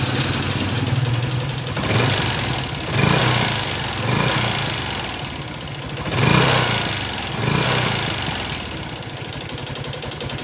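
A Yamaha Sniper 135 motorcycle with a broken piston runs alone and close, its engine loud and rough with steady knocking and rattling, swelling in several revs.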